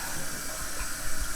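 Water running from a newly installed bathroom vanity sink faucet, a steady close splashing hiss that holds without a break.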